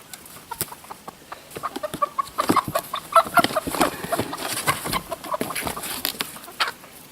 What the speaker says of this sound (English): There's a little rooster.